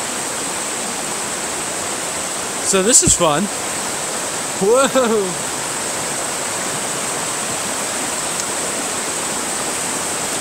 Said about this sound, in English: sometimes the trail likes to go wonky on us and just straight up send us on the edge of the river